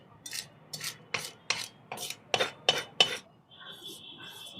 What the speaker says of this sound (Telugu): చూసారు పచ్చడి పట్టుకుని కలుపుతున్నాను, తుడుతున్నాను.